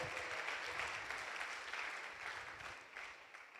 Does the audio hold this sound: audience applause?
yes